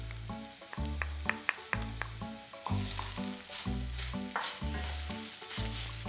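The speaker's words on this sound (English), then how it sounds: "I'm going to add to that the garlic. Cook that off for a few seconds before you add anything else." Garlic and tomato puree sizzle in a hot pan while a meatball sauce is made for pork meatballs with linguine. Steady frying hiss plays against a prominent repeating low musical pattern with occasional sharper clicks.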